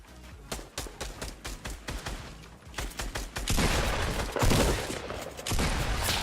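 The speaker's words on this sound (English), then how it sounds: "I'm getting shot from the hill above" Rapid gunfire from the Fortnite Battle Royale video game, with dense bursts of shots and continuous loud firing that builds into a sustained barrage with no talking.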